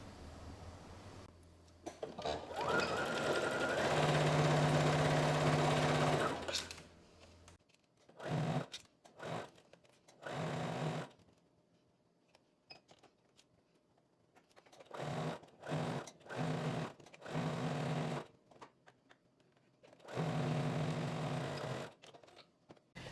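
A sewing machine overlocker runs along a dress seam in bursts: a long steady whir first, then several short stop-start runs separated by silences, close and fairly loud.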